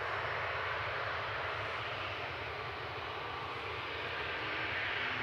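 An airliner departing Manchester Airport for Thessaloniki, Greece, gives a steady, moderately distant jet engine drone with a low rumble, holding even throughout with no voices.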